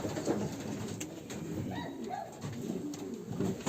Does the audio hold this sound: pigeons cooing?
yes